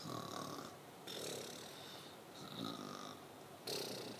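A voice imitates snoring with a few rhythmic, raspy breaths in and out, close and fairly quiet.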